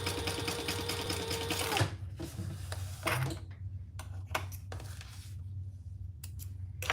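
A sewing machine basting fabric with an eighth-inch seam runs in one fast continuous whir, then stops and gives way to scattered clicks and small handling taps.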